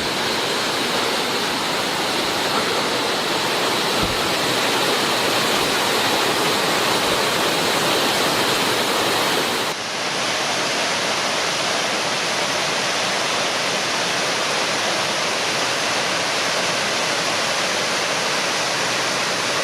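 A large waterfall at the Cirque de Saint-Même roars as a steady, loud, broadband rush of falling water, continuous throughout with a slight shift in tone midway and no voices.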